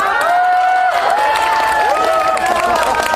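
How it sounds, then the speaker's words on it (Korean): A large crowd at a candlelight street protest rally in Korea claps and cheers in a loud, unbroken roar of hands and raised voices lasting about three seconds. "자, 여기서 박수 한번 쳐주시면 안 될까요?"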